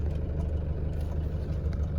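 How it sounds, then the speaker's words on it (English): 1990 Range Rover Classic engine, warmed up, idling with a steady low rumble, faint and even, with no voices over it. "So this is it, just"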